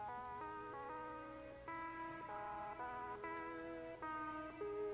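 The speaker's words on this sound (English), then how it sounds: "Like an old-timey piano synth sort of sound." Plinky, slightly detuned keyboard tones with an old-timey piano character play short chords in a steady, bouncy rhythm, clear and alone.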